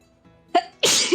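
A person sneezes close by: a short quiet intake of breath, then a sharp burst, followed by a brief trailing sound right after.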